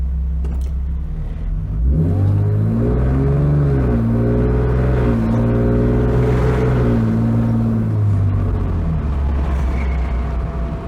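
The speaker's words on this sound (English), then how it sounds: "The entire interior of the car resonates with a deep rumble." A BMW E46 engine idles with a deep, droning rumble and heavy vibration that resonate through the car's interior, steady and close, rising slightly in pitch partway through before settling back to a low hum.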